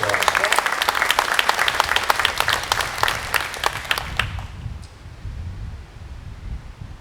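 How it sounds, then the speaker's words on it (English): Audience applause at an Israel Bonds event at the Addison, dense steady clapping from a crowd that ends abruptly about two-thirds through, leaving quiet room noise. "really deserve another round of applause"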